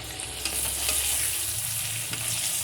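Palm fritter batter sizzles and bubbles in hot oil in a wok, a close, steady frying hiss with no talk over it.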